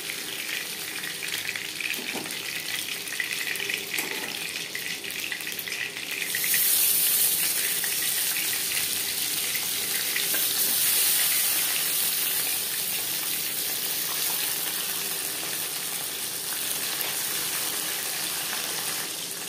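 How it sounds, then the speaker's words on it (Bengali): Bata fish frying in hot oil in a pan, a constant crackling sizzle that swells louder partway through and keeps going steadily without any talking. "তিনবারে আমি মাছ ভেজে নিয়েছি।"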